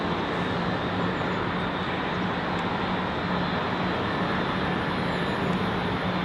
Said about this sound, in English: We'll be able to get that Qatar 380 touching down